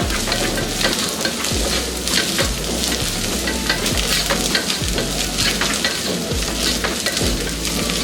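Ginger garlic paste sizzles steadily in a hot pan while it is stirred, with a loud, constant crackling fry and a rhythmic scraping beat from the spoon.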